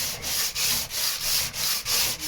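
Rhythmic back-and-forth sanding of wood on a boat, steady loud rasping strokes about every third of a second with brief dips between passes, close and alone.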